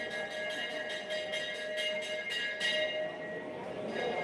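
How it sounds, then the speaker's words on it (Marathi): A bell rings in a quick run of repeated strokes to start an auction at the Solapur onion market, ringing steadily for a few seconds over a noisy crowd background. "लिलावाला सुरुवात होईल आता घंटा वाजलेला आहे"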